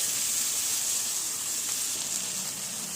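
Prawns hit a hot pan with stalks of elephant foot yam in a Bengali home kitchen, giving a steady, loud, close sizzle and hiss that holds evenly throughout with no talking.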